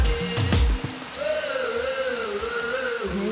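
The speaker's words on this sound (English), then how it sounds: "It's raining now." Steady rain falls outdoors on wooded Alaskan property, a broad even patter throughout with a brief louder rustle and thump near the start and a faint tonal hum running beneath.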